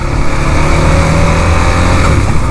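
Car engine revving after its throttle body was cleaned, a loud close steady drone with a faint tonal hum and no speech.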